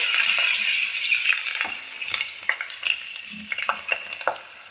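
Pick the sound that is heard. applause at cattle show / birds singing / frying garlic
frying garlic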